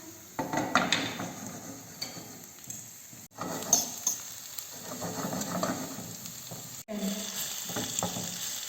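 Minced garlic sizzles and fries steadily in a pan with rosemary for lemon spaghetti, a close continuous hiss broken by occasional scrapes and clinks of stirring utensils.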